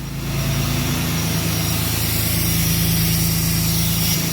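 A Cummins 6.7 diesel pickup truck engine with a VGT turbo runs at high idle, a loud, steady, even drone with a low rumbling throb and a faint high whine, close by and alone.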